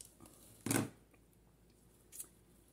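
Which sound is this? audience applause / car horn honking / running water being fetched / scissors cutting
scissors cutting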